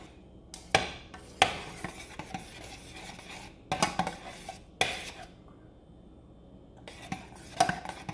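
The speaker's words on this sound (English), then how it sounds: "So I'm just going to keep constantly stirring this for a bit." A whisk or spoon scrapes and clinks against a pot while stirring a heavy whipping cream ice cream base, with irregular metallic taps and swishes at close range, no talking.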